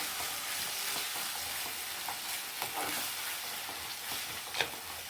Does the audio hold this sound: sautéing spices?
yes